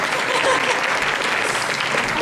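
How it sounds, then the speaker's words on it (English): An audience at an Anime Expo Sailor Moon voice actress panel claps loudly and continuously, a dense close wash of applause from a full room with no break. "Don't stop clapping, they're still coming."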